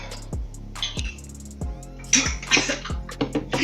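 Toilet water poured into a cup for a prank, a splashy trickle with a few distinct drops and gurgles that swells into a fuller, louder pour toward the end, close up and without talk.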